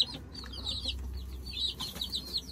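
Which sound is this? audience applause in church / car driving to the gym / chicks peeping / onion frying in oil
chicks peeping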